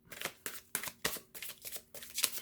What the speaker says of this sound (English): When I shuffle this way, I always expect some wear and tear on the cards